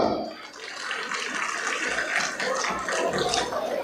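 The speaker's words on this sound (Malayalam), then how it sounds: "മനുവിനും ബിൽഡിംഗ് ബോർഡിനും ജെയിംസിനും ഒക്കെ ഒരു കൈയ്യടി നിങ്ങൾക്ക് കൊടുക്കാം" An audience at a Knanaya community gathering applauds Manu, the building board and James, a dense, sustained wash of clapping from many hands that holds steady for several seconds.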